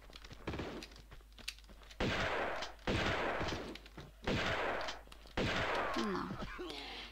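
Four loud gunshot bursts from the video game Tomb Raider II crack out in sequence over quieter game ambience, each with a short ringing tail.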